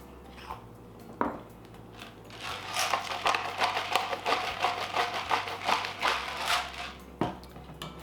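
A spoon stirs potato salad in a bowl with soft, wet scraping and clinking, a few seconds of quiet repeated strokes and a couple of light knocks.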